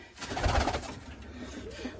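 Crested, shaggy-footed pigeons coo in a low throaty burst near the start, then quieter murmuring calls continue close by.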